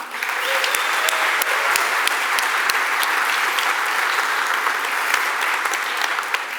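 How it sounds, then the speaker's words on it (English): A large conference crowd at an opening keynote gives a warm round of applause, dense and steady, loud and sustained throughout with a few sharper claps standing out. "Let's give a warm round of applause to Shannon and Jim"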